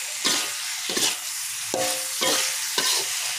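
A spoon stirs fried sausage and purple eggplant in spicy balado sauce in a hot pan, five distinct scraping strokes over a continuous sizzle, close and clear.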